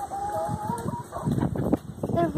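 A rooster and chickens clucking and calling on a farm, in short overlapping bursts close by, with people talking over the birds throughout.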